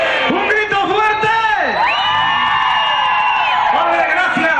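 A crowd at a live performance whoops and shouts loudly in sustained rising and falling yells that carry on throughout.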